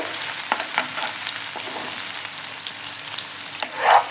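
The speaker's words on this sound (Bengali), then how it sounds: "রসুন এবং মাছ দুটোই একসাথে ভাজা হচ্ছে" Garlic and rohu fish fry together in a pan, a loud, even sizzle close by with a few spatter pops and a brief surge of hissing at the end, with no speech.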